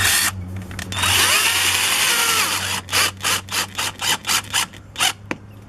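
A power drill whirs steadily for about two seconds driving a screw into a plastic replacement window frame, then runs in a string of short, even bursts, close and loud.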